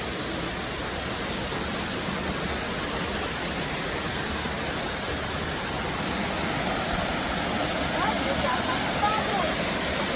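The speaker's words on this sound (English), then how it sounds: "Hang on, Natalie, let's look at this waterfall here for a minute." Waterfall on a farm in Boone County, Arkansas, pouring over rocks with foam at the base; a loud, steady, close broadband rush that continues unbroken and swells slightly later on.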